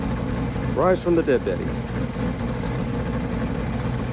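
A 1967 Rolls-Royce Silver Shadow idles at a car show with a steady, low, even rumble. A voice briefly speaks over it near the start, then the engine carries on alone.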